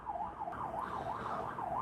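An ambulance siren outside wails in a smooth, repeating up-and-down sweep, steady and moderately distant, with no voices over it.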